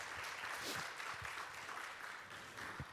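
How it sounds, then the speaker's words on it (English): A seminar audience in Singapore applauds, a faint, continuous rustle of many hands clapping at a distance, with no voices over it. "Shall we give them a big applause to come to our ODS?"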